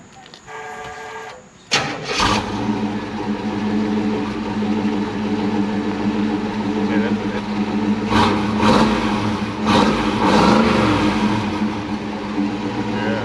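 A 1970 Chevelle engine with 2.5-inch Pypes exhaust cranks and catches, then settles into a steady rumbling idle with a few revs rising and falling, heard close up.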